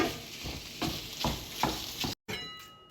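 Lean ground beef frying in a pan, a steady close sizzle with faint scraping stirs throughout, then a brief cut to silence before the sizzle resumes.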